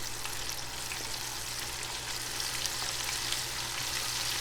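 Flour- and salt-coated food frying in hot oil, a steady dense crackling sizzle that stays close and even throughout, no talking.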